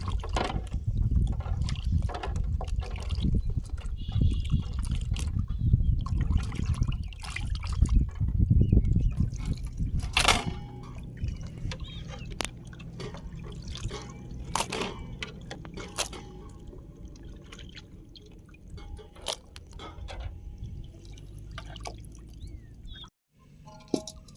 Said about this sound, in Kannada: ಇವಾಗ ಅರ್ಶಿನದ ಪುಡಿ ಹಾಕೊಂಡು ಲಾಸ್ಟ್ ಸಲ ತೊಳಿತಾ ಇದೀವಿ